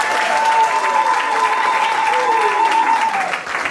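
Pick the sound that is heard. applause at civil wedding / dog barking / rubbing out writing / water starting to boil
applause at civil wedding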